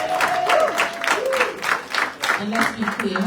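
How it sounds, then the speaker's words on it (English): Applause fills a town hall meeting on human and civil rights, a steady wash of clapping hands with talk and voices rising over it throughout. "Guys, give Mr. Bettany another round of applause, please."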